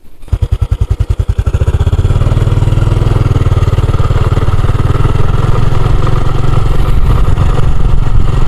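A motorcycle ridden along a muddy, wet road in the Dieng highlands, close and loud. Its engine starts with quick firing pulses, then settles into a steady, throbbing drone throughout, with no talk.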